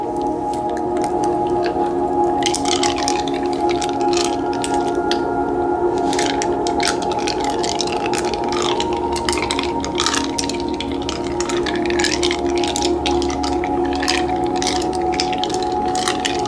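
Oiled hands are massaged up close, giving wet squishing and slick sliding sounds in irregular bursts over a steady low hum, with no speech.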